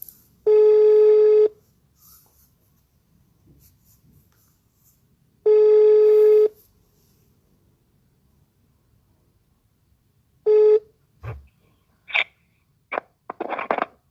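An outgoing telephone call rings back in three long, evenly spaced electronic tones separated by silence; the last tone is cut short, and a few clicks and knocks follow.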